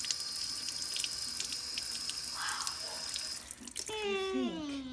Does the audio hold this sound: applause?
no